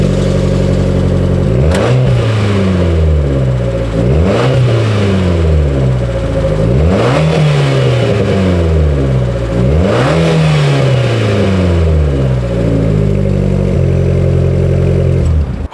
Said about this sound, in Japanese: エンジンかけると音がめちゃめちゃいいっていう感じです